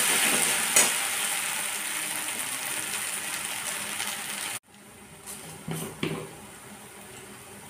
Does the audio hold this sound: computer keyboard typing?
no